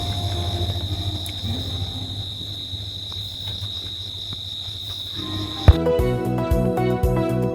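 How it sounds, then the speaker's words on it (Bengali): Crickets at night at a resort in Sreemangal, Moulvibazar keep up a steady, shrill, continuous chirring. Toward the end a sudden thump cuts in, followed by different tonal sounds. "এতক্ষণ শুনলেন ঝিঝি পোকার ডাক"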